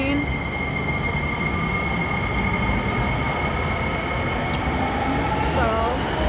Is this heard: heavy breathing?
no